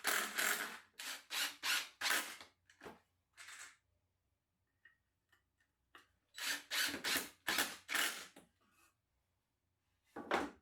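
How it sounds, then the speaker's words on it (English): A power drill drives screws into pocket holes while 2x4 and 1x4 wood pieces are clamped, several short whirring bursts in two groups separated by quiet pauses with faint clicks, close and loud, no talk. "Glue, clamp and screw the pocket holes."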